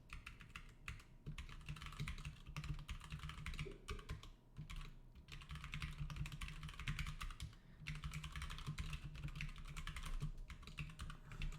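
Code goes in on a computer keyboard in bursts of close, quick key clicks, with brief pauses between the runs and no speech.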